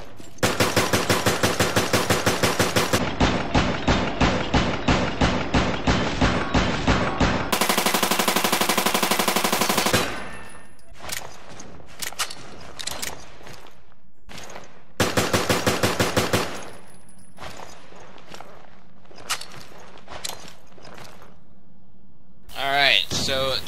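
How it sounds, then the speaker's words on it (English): A G36 assault rifle fires in Resident Evil: Revelations, with loud, rapid automatic bursts in several long volleys separated by pauses and scattered single shots, all close and dominant. "The G36 is the most powerful regular assault rifle in the game, but of course it has the slowest firing speed and the least capacity."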